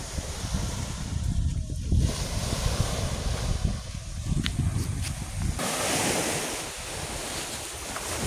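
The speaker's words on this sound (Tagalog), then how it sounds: "Ang nakaganda ngayon mga idol mataas ang dagat ngayon." Sea waves break and wash onto a provincial beach during a high tide, a steady loud roar of surf mixed with gusting wind buffeting the microphone throughout.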